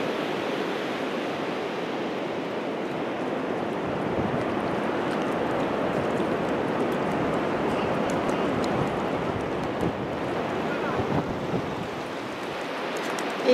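Sea surf washes ashore on a November afternoon where fresh water meets salt water, a steady soft rush of waves mixed with wind noise on the microphone and no talking.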